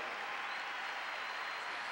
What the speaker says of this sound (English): a standing ovation even before the match point's played